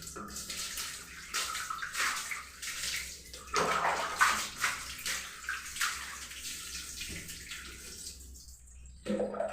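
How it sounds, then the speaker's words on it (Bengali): Water pours and splashes over a dog during a bath, running continuously and fairly close with surging splashes and gurgles, and a voice is faintly heard in the background. "ফার্স্ট গায়ে জল দিলাম।"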